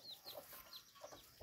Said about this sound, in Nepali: छ कसको त भाले किल्छ क्या